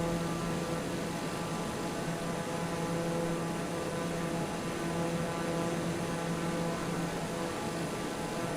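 Airplane droning steadily in Microsoft Flight Simulator over Mumbai, a constant loud engine hum and rushing noise without breaks or voices.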